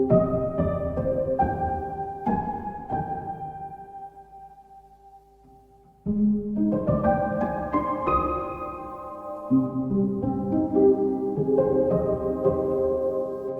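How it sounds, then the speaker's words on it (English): A horror piano sound processed through the Unfiltered Audio Fault stereo detuned preset rings out as eerie, warbling detuned chords that decay into near silence before a louder shimmering cluster returns, sustained and unsettling, with no talking. "I think this is the perfect horror piano sound"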